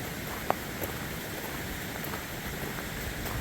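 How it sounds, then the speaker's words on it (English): Light morning drizzle patters on a roadside forest trail, a soft, even hiss with a few faint distinct drops, steady and gentle throughout with no voices. "Still got a drizzle going on this morning."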